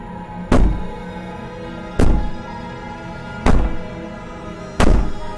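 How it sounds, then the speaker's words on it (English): A princess in the video game Slay the Princess banging from within, four heavy, evenly spaced booming thuds roughly a second and a half apart, each with a short ringing decay, alone without talk. "Maybe the banging and wailing will stop if you just don't pay attention to it."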